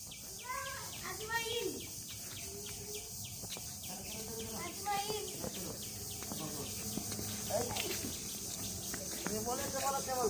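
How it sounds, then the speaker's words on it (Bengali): Crickets chirp in a dense, unbroken high drone all around an open outdoor spot, with scattered bird calls and faint voices mixed over the top. "চারিদিকে শুধু ঝিঝি পোকার শব্দ।"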